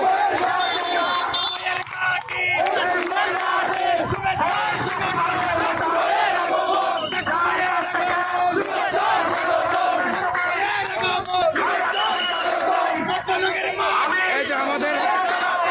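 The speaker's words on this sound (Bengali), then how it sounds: "সাক্ষু ভাইয়ের স্লোগান আজকে তরুণরা দিচ্ছে" Young people chanting a political slogan in Bangladesh, a loud crowd of voices shouting in rhythmic unison with yells rising above, continuous and close.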